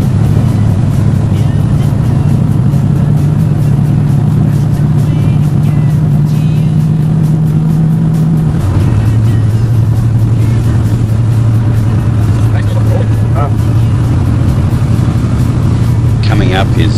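A car drives fast on the Bathurst road circuit, its engine a loud, steady drone that shifts pitch partway through as it changes gear, with a voice talking over it.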